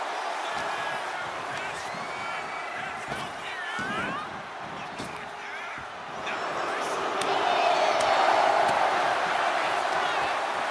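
Wrestling crowd in WWE 2K25 during a Money in the Bank match, a steady arena roar that swells louder near the end, with scattered impact thuds and a commentator talking over it.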